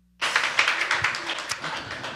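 A church congregation at a Korean Sunday worship service applauds the pastor: dense, steady hand clapping from many people that starts abruptly and continues evenly to the end.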